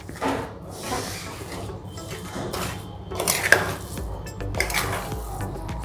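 Mawa being stirred and pressed in a pan while cooking into barfi, with scraping and rubbing of a spatula against the metal pan, irregular close-up strokes and a few sharper clinks, no talk.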